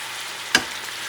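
Liver and onions fry in a pan on nearly high heat with a steady bright sizzle, cut by one sharp scrape or clack of a utensil midway.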